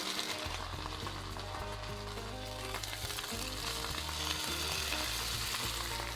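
A salmon fillet fries skin side down in hot oil, crackling and sizzling steadily and close up for several seconds, with a low hum beneath and no one talking.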